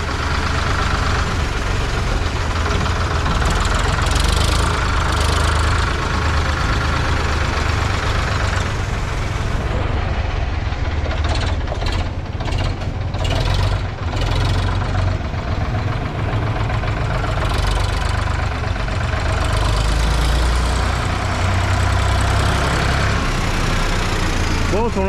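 A Ford 3600 tractor engine runs steadily close by, its loud low mechanical drone continuous throughout, with voices talking over it.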